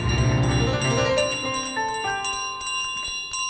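A bell in Untitled Goose Game rings repeatedly, its bright metallic strikes layering into sustained, shimmering tones that overlap and slowly decay.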